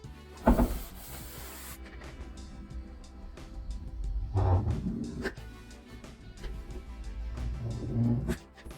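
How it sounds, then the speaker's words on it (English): Someone scuff-sands a wall before caulking, with intermittent rubbing and scraping strokes up close, separated by quieter pauses and a few louder bursts. "So I'm going to sand it before I put the caulking on"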